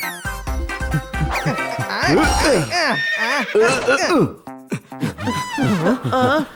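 A cartoon horse whinnies in loud, wavering neighs that rise and fall over several seconds, mixed with lively character voices and busy cartoon sound effects.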